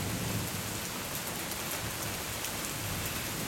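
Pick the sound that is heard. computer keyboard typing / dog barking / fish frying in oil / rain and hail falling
rain and hail falling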